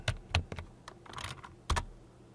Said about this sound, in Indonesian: pada address bar atau halaman penelusuran di sini ketik saja potong video online